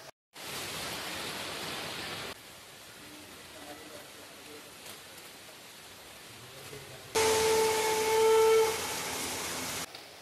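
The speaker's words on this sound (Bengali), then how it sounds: "বাইরে এখন প্রচণ্ড বৃষ্টি হচ্ছে" Heavy rain falls outside as a broad, steady hiss whose loudness jumps up and down in sudden blocks, with a brief tone near the end.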